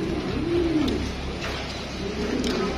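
Lotan pigeons at a large pigeon farm in Natore, giving soft, repeated throaty coos close by over a steady low background murmur.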